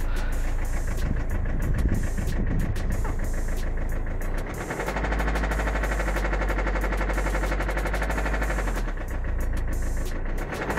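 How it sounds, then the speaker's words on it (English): A faulty car engine with its oil light on and a suspected failing connecting rod knocks rapidly and metallically over a loud, low running drone. The knocking stays continuous and close throughout. "the car makes noise like this."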